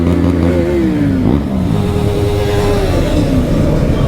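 A Bajaj NS400 Z motorcycle engine revs loudly and close by at a launch outside an auto works in Mettupalayam, its pitch sliding up and down across a steady rumble.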